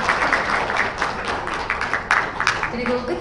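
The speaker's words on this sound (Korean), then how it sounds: "앞에 계신 5분께 다시 한번 박수 부탁드리겠습니다" An audience at a policy forum panel discussion applauds its five panelists, brisk clapping of middling loudness that runs throughout with no voices over it.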